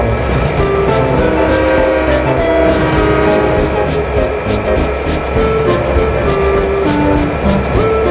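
A loud diesel locomotive train rumbles steadily with sustained horn-like tones over clattering wheels, continuous and close throughout.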